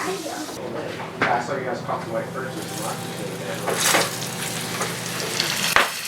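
Floured soft-shell blue crab frying in hot oil, a steady loud sizzle with crackling bursts throughout, while a person talks over it and a few clatters and knocks are heard nearby.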